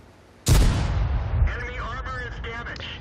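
In World of Tanks, a tank gun fires a single loud, close boom that rings and rumbles out into a long decaying tail, with game sounds and a faint voice-like tone following.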